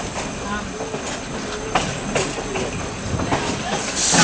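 A steam train rolls steadily along the track between Tottenham and Beeton, Ontario, recorded on board, with rhythmic clicks and rail noise over a constant rumble, plus faint voices in the background.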